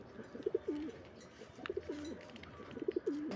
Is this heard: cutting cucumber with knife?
no